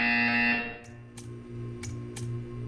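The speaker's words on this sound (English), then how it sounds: "When you hear the buzzer, stare at the art." A loud electronic buzzer tone sounds at the start and then cuts off, followed by a few short clicks or taps against a steady background hum.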